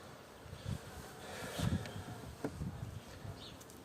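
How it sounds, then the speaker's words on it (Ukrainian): Honeybees at a hive feeder where they gather honey, giving a faint, soft buzzing with a few brief louder flutters near the microphone in quiet outdoor surroundings. "Ще бджолки навіть добирають медок."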